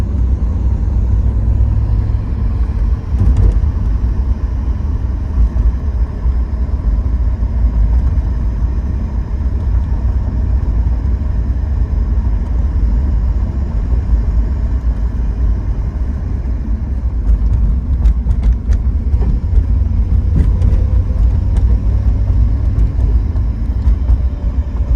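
A 1991 Chevrolet Camaro Z28 1LE with a 5-speed manual, heard from inside while driving: a steady, loud low engine drone and road rumble that runs unbroken throughout with no talking.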